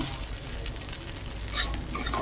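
Okra sizzles gently in hot oil, fried until reddish, a soft continuous crackle with a couple of brief scraping stirs toward the end.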